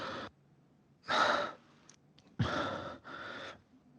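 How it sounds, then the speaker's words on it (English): Horror game sound design of people breathing: four heavy, close breaths, rising and falling like sighs and gasps, separated by short silences. "you hear people breathing"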